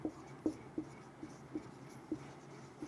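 Chemistry formula for aspirin mass percentage being handwritten, likely pen on paper, for a class 12 solutions lesson: faint, regular scratchy strokes in short bursts about every half second, close and quiet with no talk.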